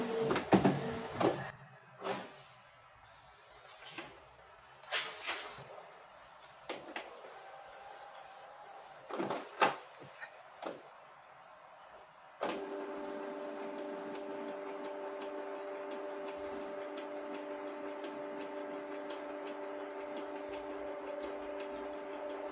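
A Canon Pixma G-series inkjet printer gives a string of scattered clicks and soft mechanical knocks, then settles into a steady, faint electronic hum that holds to the end.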